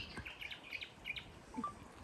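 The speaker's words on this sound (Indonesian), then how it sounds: "Di sini tuh sebenarnya ada suara burung." Faint, scattered bird chirps and short tweets over a low background hiss on a beach, several brief calls spread unevenly across the moment.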